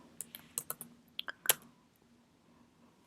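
Fingers type an SQL query on a computer keyboard in quick, faint, irregular clicks and taps. A short burst comes first, then a brief pause and a few more keystrokes, all in a quiet room.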